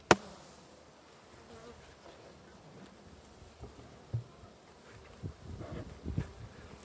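Honeybees buzzing around an open beehive during an inspection and varroa treatment, a steady low drone of many insects with a few closer passes swelling louder, no talk.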